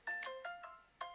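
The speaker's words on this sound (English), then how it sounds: "I do apologise for my phone going off" A mobile phone ringtone goes off during a Yu-Gi-Oh! card opening, playing a short run of bright electronic tones at a steady pulse, fairly faint and with nothing else in the background.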